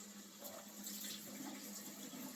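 Salt fish being rinsed in water for ackee and salt fish, a steady close splashing and running-water wash with no talk.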